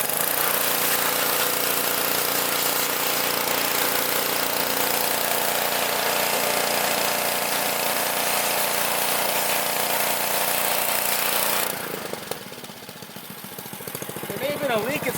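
A car engine bay sprayed with a pressure washer to blast off grime, a loud continuous hissing roar over a running engine's hum, then the spray shifts and thins near the end.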